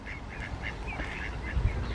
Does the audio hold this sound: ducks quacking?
yes